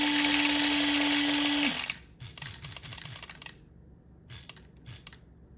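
A coffee grinder's high-speed bean dosing mechanism whirs loudly and steadily at close range, then cuts off abruptly and gives way to a series of quick clicks and short mechanical ticks.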